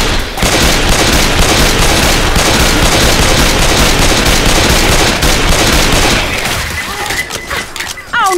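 Heavy automatic gunfire in Left 4 Dead 2, loud and close, rattles almost nonstop before thinning out near the end, with shouting voices underneath.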